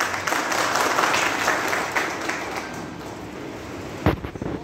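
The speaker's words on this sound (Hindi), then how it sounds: "इनका भी स्वागत किया गया तालियों से।" Steady applause from a crowd at a Valmiki Jayanti community ceremony honouring a mayor in India, dense clapping that continues throughout before a sharp louder burst near the end.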